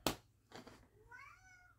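A house cat lets out a short series of meows, clear and close, each call rising and falling in pitch after a couple of brief rustling thumps, with no one speaking.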